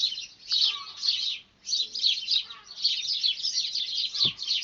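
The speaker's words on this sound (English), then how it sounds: "it's just full of birds" Small birds sing and chirp in a garden of roses, brambles and passion flower, a busy stream of high twittering calls that runs almost continuously, nearby and clear, with a few faint low knocks beneath.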